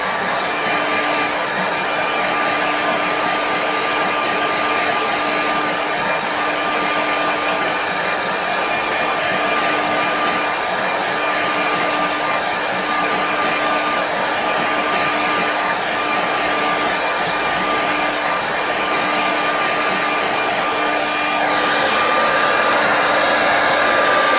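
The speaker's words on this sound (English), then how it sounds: "what I'm going to do is just actually give it a quick dry." A hair dryer runs steadily at close range, drying a wet watercolour landscape painting, a constant whirring blow that holds for the full stretch with a slight lift in level near the end.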